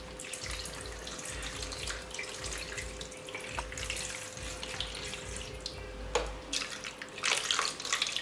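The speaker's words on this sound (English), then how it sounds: "So you hold the plate down and you slowly add the water." Water pours steadily from a tap into a pot of meat-and-rice stuffed peppers, a continuous splashing rush with occasional small clinks and sloshes, close and uninterrupted by speech.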